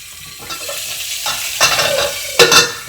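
Cumin seeds and a broken bay leaf sizzling in hot oil over a lowered flame for a dhaba-style paneer curry; a soft crackle swells into loud bursts of spitting sizzle as the spoon stirs, the last burst sharpest.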